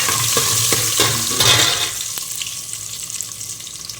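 Garlic frying in hot oil for a fish curry: a close, bright sizzle with stirring scrapes, loud at first and then easing to a quieter, steady crackle.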